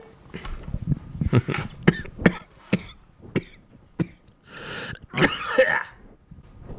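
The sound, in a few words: coughing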